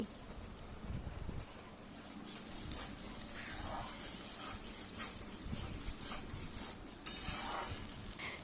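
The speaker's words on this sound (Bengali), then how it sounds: "এবার এর মধ্যে দিয়ে দিচ্ছি পেঁয়াজ আদা রসুনের পেস্টটা লো টু মিডিয়াম ফ্লেমে মশলাগুলোকে খুব ভালো করে দু থেকে তিন মিনিট সময় ধরে কষিয়ে নিতে হবে" Onion, ginger and garlic paste frying on low to medium heat in a pan, a quiet sizzle with intermittent stirring scrapes and a sharper clink near the end.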